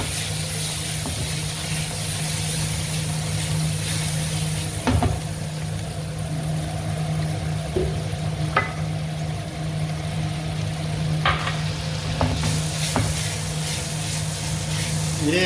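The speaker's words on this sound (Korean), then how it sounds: "자, 이제 소스를 넣어주고 잘 한번 코팅을 해보죠." Fried chicken wings sizzling in a pan as they are stirred and coated in a soy-based sauce, a steady close hiss broken by occasional scrapes and clinks.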